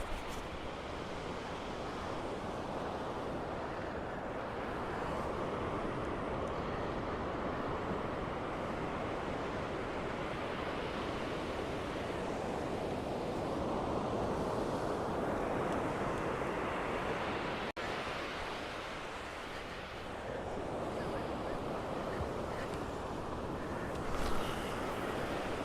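Sea waves break steadily on a beach during surf fishing for whiting, a continuous loud wash of surf with some wind buffeting the microphone, swelling and easing over the span.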